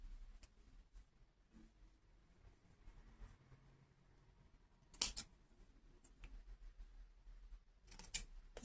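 Scissors snipping through fabric, a couple of sharp close cuts standing out from a quiet room.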